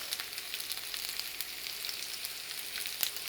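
Raw potatoes sauté in hot fat in a pan over a lowered flame, giving a steady, even sizzle with faint crackles and one small pop near the end, close and alone.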